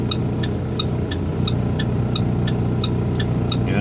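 An International automatic truck's engine hums steadily while driving, a continuous mid-pitched drone with road rumble and a faint, regular ticking repeating about every third of a second.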